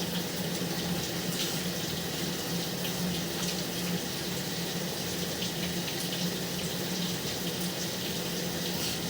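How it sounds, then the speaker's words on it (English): Water rushing steadily through a drain pipe at the flow line, a continuous dense wash of sound with no pauses, heard fairly close and alone. "Water finally made it out there."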